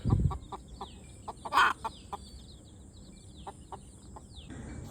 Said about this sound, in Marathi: कशी पिल्ली आणि कोंबडी फिरते इकडं